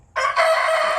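A barnyard chicken gives a loud, sustained crowing-like call for almost a second, starting abruptly after a brief quiet moment, with no talking over it.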